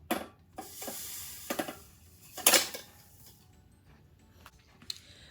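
Sugar being added to a saucepan through a sifter while gingerbread pie filling is made, heard as a few light scraping, tapping and clinking knocks of metal utensils and pan, fairly quiet with pauses between.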